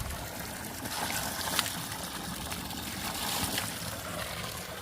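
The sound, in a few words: water flowing from a mountain spring into a tank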